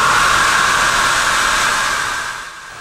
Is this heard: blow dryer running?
yes